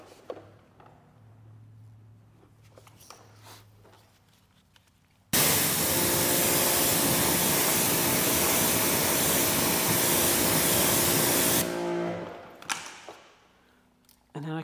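A strong water spray rinses acidic wheel cleaner off a car wheel, a loud steady hissing blast lasting about six seconds before cutting off, with quieter handling noises before and after.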